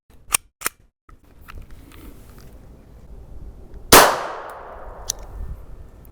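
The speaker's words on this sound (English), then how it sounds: "Today, we're going to be shooting subsonic 147 grain full metal jacket 9mm." A 9mm pistol fires subsonic 147-grain full metal jacket rounds without a suppressor. One loud, sharp report rings out with a short reverberant tail, preceded by a few small mechanical clicks and handling noises.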